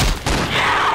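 Gunfire in the Roblox zombie game Project Lazarus, a loud, close burst with a brief dip and then another dense blast, no talking.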